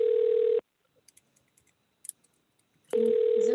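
A telephone rings in two long electronic tone bursts separated by a quiet gap with faint clicks, loud and close, with no talking.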